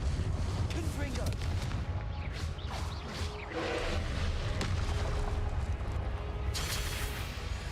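Confringo blasting spells explode in Hogwarts Legacy: a run of booming, crackling blasts that follow closely on one another. A voice speaks between them.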